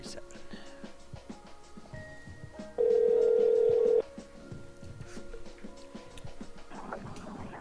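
A telephone ringback tone plays on an outgoing call: one steady tone lasting just over a second, heard over low background noise.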